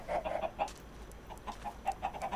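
Several chickens cluck in the video game Minecraft, a run of short, clipped calls in quick bursts at moderate volume with brief pauses between them.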